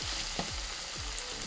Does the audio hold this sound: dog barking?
no